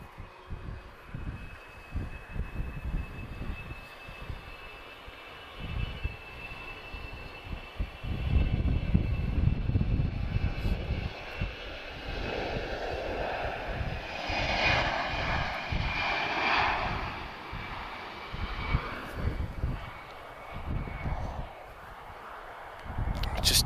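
Airliner departing Lisbon Airport bound for London Luton, a steady rumbling jet roar that swells in the middle and holds, heard from a distance with a faint high whine above.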